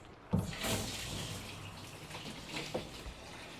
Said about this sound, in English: Let's go ahead and get this thing filled up too